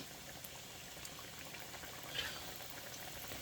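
Jamaican-style fried dumplings sizzle in hot oil on the stove, a steady soft crackling hiss that holds evenly throughout with no voices.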